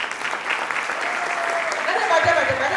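A crowd claps in warm, sustained applause for a man's wife at a gathering, the clapping steady and dense throughout, swelling slightly toward the end.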